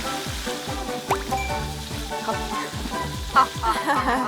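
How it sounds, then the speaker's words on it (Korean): Karaage chicken deep-frys in hot oil, a steady bubbling sizzle close by with occasional louder pops and crackles, under a thumping rhythmic background beat. "넣고 튀기기만 하면 되는 거라서"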